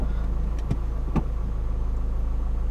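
A car engine idles steadily while stopped at traffic lights, a low constant hum with a couple of faint clicks over it, close and unaccompanied by talk.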